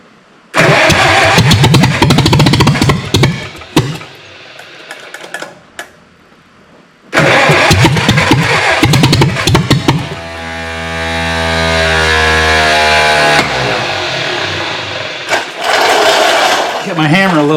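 The Project R car engine cranks and catches, running loud and rough in bursts with a pause between attempts, then settles into a steady, close idle with a whining drone.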